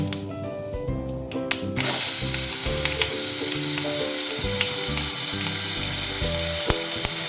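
Apples frying in a pan for a date and apple chutney with mango ginger, giving a loud, steady sizzle over soft background music, with a few stirring scrapes.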